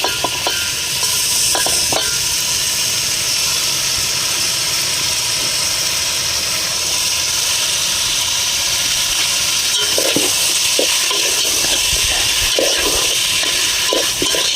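Marinated meat tipped into a frying onion gravy and stirred, giving a steady loud sizzle with scraping stir strokes at an outdoor farm party cookout, a few sharper clatters near the end.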